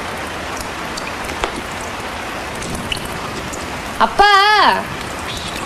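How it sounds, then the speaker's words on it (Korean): Steady rain falls as a continuous close hiss that fills the whole clip, and a voice briefly shouts out near the end. "진짜 비 더럽게 안 떨어지네"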